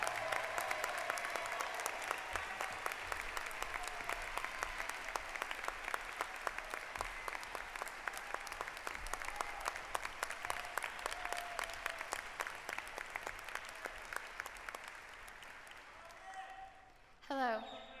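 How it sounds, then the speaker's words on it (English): Sustained applause from a large commencement audience honoring graduates at an Auburn University summer ceremony, dense and steady for most of the stretch before thinning out near the end, with a brief voice or sound at the close. "Now you may give all of our graduates a round of applause."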